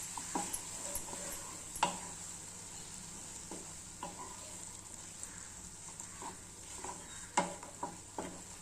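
Potato and semolina being stirred together in a kadhai, a spoon scraping the pan in soft, irregular strokes with a few sharper knocks, close and fairly quiet over a faint steady hiss.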